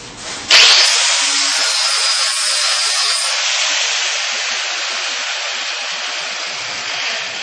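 Grinding wheel dressing a weld on metal with the wheel turning the reverse direction, a loud close continuous hissing whine that starts abruptly and holds steady for several seconds.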